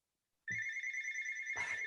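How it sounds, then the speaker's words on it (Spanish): A mobile phone ringtone suddenly sounds in a lecture hall, a bright sustained electronic tone that starts abruptly and holds steady, fairly loud and alone, with a brief rustle at the start and another near the end. "Lo siento, me ha sonado el teléfono"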